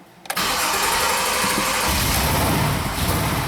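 A Jeep Liberty engine cranks and catches, then runs at a rough, uneven idle with slight throttle, a steady broadband roar that wavers and stumbles as it misfires.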